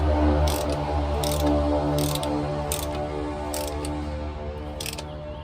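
A hand ratchet tightening the bolts of an automatic transmission filter on an Isuzu 1.9 with a six-speed gearbox, rapid clicking bursts repeating in short strokes over a steady hum.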